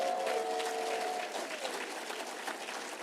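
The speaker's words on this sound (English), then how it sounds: "I love that you're all clapping for that" Audience clapping at a Jill Biden campaign event in Green Bay, a steady, even wash of applause from a crowd filling the room, moderately loud and sustained without letting up.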